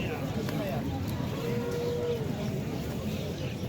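Low, drawn-out cattle moo rises briefly out of a busy livestock market, under steady crowd chatter and nearby voices talking.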